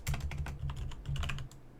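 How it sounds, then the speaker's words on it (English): Quick, uneven typing on a computer keyboard, with close, dense key clicks forming a steady patter and no talk over it. "I'm typing badly today."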